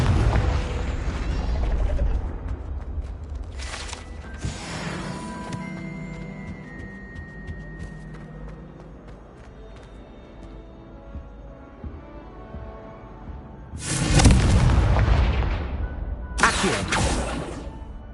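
A Confringo blasting spell goes off as a fantasy-game explosion effect: a loud, broad blast near the start, a softer burst at about four seconds, then creaking, rumbling mechanisms, and two more heavy roaring bursts near the end.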